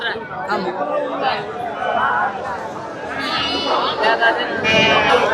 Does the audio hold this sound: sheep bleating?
yes